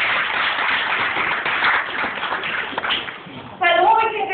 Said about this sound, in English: we can give the two of them a nice big round of applause